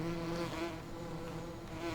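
Bees droning steadily around four beehives in the farming game Farming Simulator 2017, a continuous close insect buzz with a low hum running through the whole moment.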